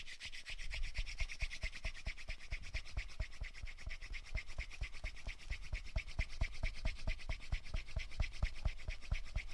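A wooden spindle being abraded in a workshop, heard as a fast, rhythmic rubbing and scraping that repeats steadily and closely with regular strokes throughout, with no talking.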